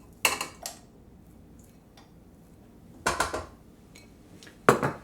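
Softened butter is creamed in a bowl for gluten-free snickerdoodle cookies, giving a few sharp scraping clinks of a utensil against the bowl in short bursts separated by quiet gaps.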